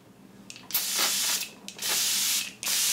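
Organic grape water facial mist sprayed from a pump bottle: three short, close hissing bursts of fine spray, each lasting about half a second, with brief quiet gaps between them and no talking.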